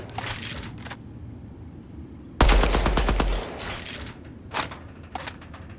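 Rapid automatic gunfire with heavy recoil in the shooter video game Deadrop, a loud burst of about a second after quieter mechanical clicks, followed by a few scattered shots and clanks.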